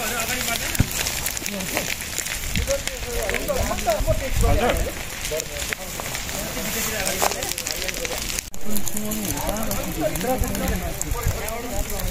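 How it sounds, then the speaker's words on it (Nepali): A large, dangerous blaze burns at Yashok in Nepal, giving a dense, continuous crackling roar that holds steady throughout, with voices talking over it. "हाम्रो पाँचौं जिल्लामा चाहिँ खतरनाक आगो लागेको है"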